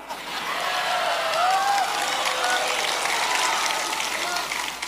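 A mosque congregation at a humorous Islamic sermon claps steadily and densely for several seconds, a broad wash of hands with a voice faintly audible over it.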